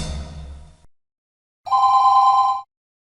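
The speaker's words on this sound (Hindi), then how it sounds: "कीजिए कीजिए, मेहता साहब को फोन कीजिए" A telephone rings once, a bright electronic trill lasting about a second, following a fading low rumble and brief silence.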